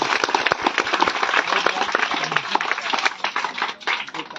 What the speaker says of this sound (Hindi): एक बार और जोर से ताली बजाओ सब।